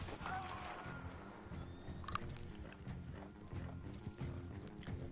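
Horse hoofbeats in the Red Dead Online video game, a faint steady clip-clop under low game ambience, with a short sharp click partway through.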